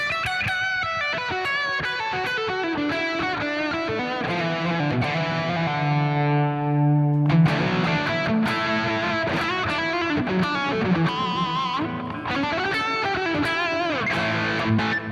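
An electric guitar plays through the Rev fuzzy overdrive pedal, producing loud, sustained, gritty distorted chords and picked notes with a ringing held chord near the middle, no voices.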